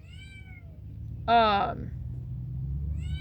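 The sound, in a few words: cat meowing at bugs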